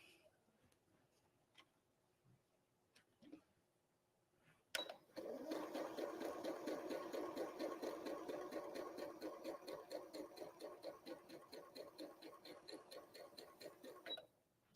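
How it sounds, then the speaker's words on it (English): A sewing machine stitches quilt binding strips in one continuous run lasting about ten seconds. The needle makes a fast, even clatter that starts abruptly and stops cleanly, preceded by quiet handling sounds. "All right, so I've sewn my strips of binding"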